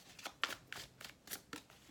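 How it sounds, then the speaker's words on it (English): Tarot cards being shuffled by hand in rapid, riffling bursts roughly every quarter second, crisp and close, with no talking over them. "doing a little bit more shuffling on camera"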